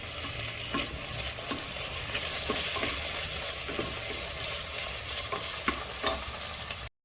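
Two medium-sized onions sauté and are stirred in a pan for a country chicken curry: a continuous sizzle, with rhythmic scraping strokes of the spoon, ending abruptly.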